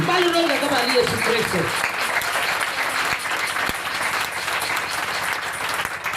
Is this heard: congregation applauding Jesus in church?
yes